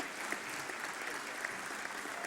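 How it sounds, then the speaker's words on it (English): Steady applause from a forum audience, a dense even patter of many hands clapping at moderate distance for about two seconds, with no break and no voice over it. "another round of applause"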